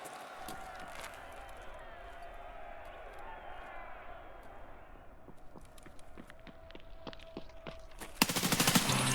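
Gunfire in the video game Tarkov Arena: scattered shots and rapid bursts build toward a loud, dense volley at the end, with footsteps and faint voices in the background.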